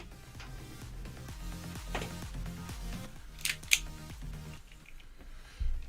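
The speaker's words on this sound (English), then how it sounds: "We take the giant scissors and we do this." Giant scissors snip with a couple of sharp, close cuts that stand out against a quiet indoor background, with no talking.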